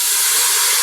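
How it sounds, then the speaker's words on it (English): Banga palm nut extract hits a hot pot and sizzles loudly, a dense, close hiss that holds steady without a break. "The sizzle! That's the sizzle that I love to hear."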